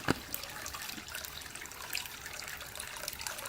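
A Drinkwell Stone Pagoda cat water fountain running, a soft, steady trickle and splash of falling water, fairly faint and continuous, with no talking.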